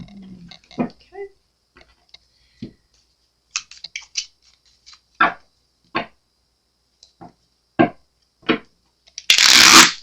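A deck of tarot cards is shuffled by hand in a quiet room, with sparse, separate soft riffles and taps, then a brief dense burst of card flicking at the end.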